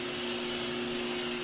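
Water runs steadily while hair with 360 waves is rinsed during a wash before a haircut: a continuous, close rush of water with a faint underlying hum and no speech.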